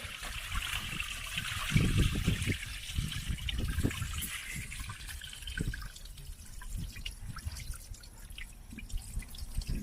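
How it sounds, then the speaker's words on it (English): Water drains and drips from a pool cartridge filter housing, with steady close trickling and a cluster of heavier splashing drips early on that thins into lighter, scattered drops. "As soon as that water's done draining here"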